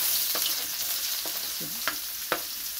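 Onion and garlic sauté in a pan for stir-fried beef with broccoli: a constant hissing sizzle, with a few sharp scrapes and clicks of a utensil stirring. No voices.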